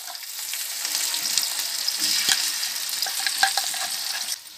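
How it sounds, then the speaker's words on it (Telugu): Ground masala paste for a fish curry hits hot oil in a pan, producing a loud close sizzle and frying crackle with stirring scrapes throughout, no voices. "మనం గ్రైండ్ చేసి పెట్టుకున్న పేస్ట్ని ఇందులో వేసేసుకుందాం."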